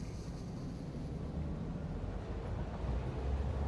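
A train running along a line in a space-elevator building video game, heard as a steady low rumble and rolling drone that holds throughout and swells slightly toward the end, with no talk.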